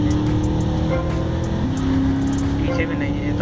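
Race cars in GTA Vice City hum and whine continuously with a steady engine drone, a shift in pitch midway, as someone talks over the game audio.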